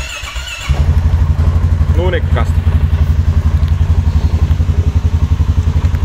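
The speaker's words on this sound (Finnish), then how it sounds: "tämähän startataan, niin tämähän on helppoa, kun painetaan vaan jarrua ja sitten startataan." A 2023 Polaris Sportsman 570 ATV engine starts after a brief quiet moment, then settles into a loud, steady pulsing idle with a short squeal early on; a voice speaks briefly over it.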